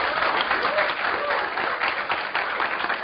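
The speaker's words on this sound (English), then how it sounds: "can we have a big round of applause for everyone?" A lecture audience applauds steadily, dense clapping filling the room at an even, moderate volume for a few seconds.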